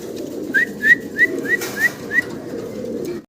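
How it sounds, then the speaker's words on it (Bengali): Danish running pigeons give six short, evenly spaced rising chirps over a steady low background murmur. "এগুলা রানিং ড্যানিশ কবুতর"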